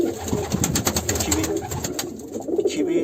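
A racing pigeon in its loft cooing, soft repeated throaty calls close by over a noisy, rustling background, with a faint bit of talk.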